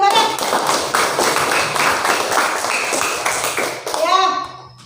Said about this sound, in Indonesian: tepuk tangan untuk kelompok 1 dan kelompok 3 bareng-bareng